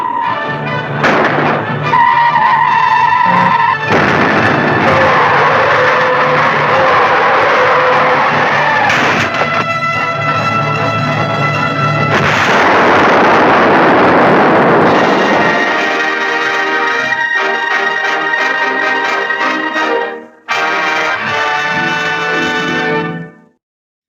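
A B-movie car crash and explosion roar as loud, dense bursts of noise, with a long rolling blast that cuts off abruptly and is followed by further crashing debris.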